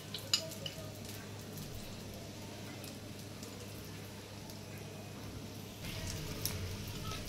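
Food frying in hot oil in a pan over lowered heat: a soft, steady sizzle with a faint hum beneath, growing slightly louder near the end.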